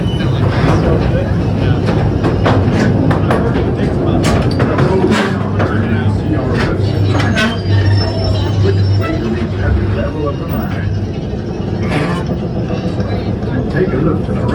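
The Calico Mine Ride train at Knott's Berry Farm rumbles and clatters along its track, a loud continuous rolling noise with rhythmic clicks and occasional squeaks, while people talk over it.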